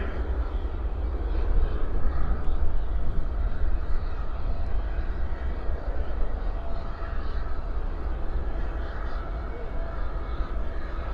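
A plane taking off at night at DFW airport, heard as a loud, steady broadband engine roar that holds throughout, from a nearby vantage point.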